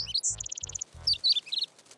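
A cartoon baby bird chirps in quick bright tweets, a burst of repeated short peeps followed by warbling calls, with soft low thumps under the first half.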